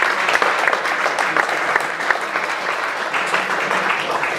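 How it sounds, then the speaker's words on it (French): Audience applause at a French association's general assembly, a steady dense clapping from a sizable crowd lasting throughout, fairly close and even in level with no talk over it. "si on peut l'applaudir"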